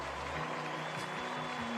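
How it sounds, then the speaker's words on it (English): Steady, continuous applause from a large crowd at a memorial, a dense wash of clapping that holds an even level throughout, with a faint voice briefly audible above it. "she's kind of milking the applause thing."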